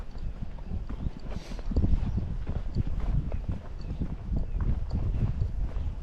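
A barefoot gaited Spotted Saddle Horse walks on gravel, its hooves crunching in a steady, uneven clip-clop rhythm close by over a faint background hiss.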